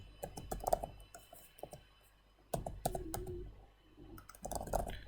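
Typing on a computer keyboard, quick clustered keystroke clicks in two or three short bursts with pauses between, close and fairly quiet.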